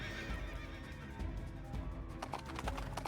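A horse neighs and whinnies in the Princess Peach Showtime video game over steady clip-clop hoofbeats and a constant background din, sounding fairly loud and close.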